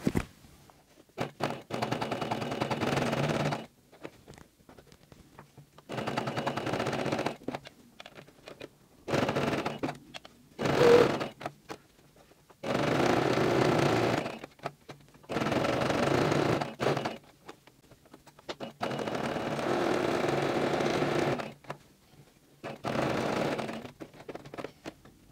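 A sewing machine runs a close seam along a women's wallet in several fast, steady bursts of stitching separated by short pauses, with no other sound.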